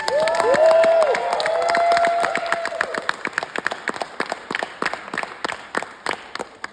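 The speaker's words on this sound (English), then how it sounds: "Let's give her a round of applause." A commencement ceremony crowd claps in scattered bursts while a bright sustained tone fades out early, the clapping thinning toward the end.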